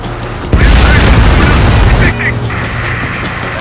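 An enemy bomber is shot down in the Ace Combat 7 flight game, bursting in a loud, heavy boom with a rumbling tail that fades under continuing jet and battle noise.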